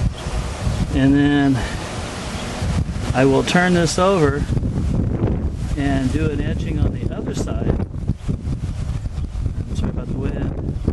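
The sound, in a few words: wind blowing into the microphone outdoors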